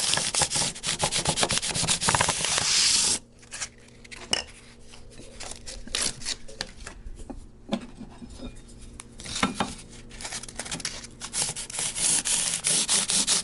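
A diamond file used as a sanding block is rubbed back and forth over guitar frets, making steady raspy scraping strokes up close, loud at first, then quieter with irregular strokes and brief pauses.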